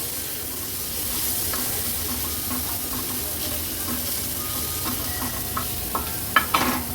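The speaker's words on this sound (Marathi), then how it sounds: "एक छोट्या साईजचा टोमॅटो ऍड करूया बारीक चिरून घेतला आहे व्यवस्थित या मसाल्यांसोबत मिक्स करून घ्यायचे आपल्याला" Finely chopped tomato is stirred into a sizzling masala in a pan, giving a steady soft frying hiss with occasional wet spatters and louder scraping stirs near the end.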